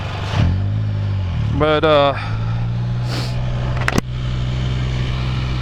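A Can-Am Spyder three-wheeled motorcycle, still suffering from a fault, drones with a steady low engine hum while being ridden into town. Wind buffets the microphone, and a rider's voice briefly cuts in over the engine.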